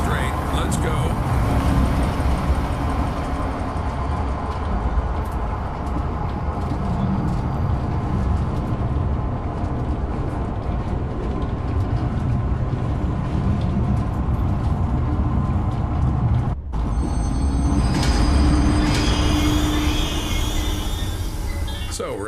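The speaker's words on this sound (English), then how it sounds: "select the giraffe enclosure on the control panel and start the train" A train in the video game Zoochosis starts up and rolls along, giving a steady, loud rumble and mechanical drone for about twenty seconds, with a brief dropout and a brighter clattering rise near the end.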